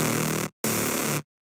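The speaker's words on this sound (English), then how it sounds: "a saw lead. It sounds like this." A bright saw-wave lead synth patch built in FL Studio plays two sustained, buzzy chord hits, the second after a short gap, loud and alone with no talking.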